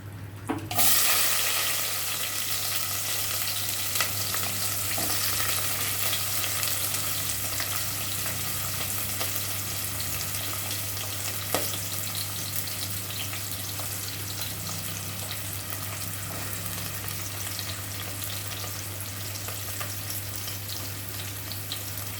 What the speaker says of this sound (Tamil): எல்லாம் பொரிஞ்சிட்டு இப்போ நம்ம வெங்காயம் போட்டுக்குவோம்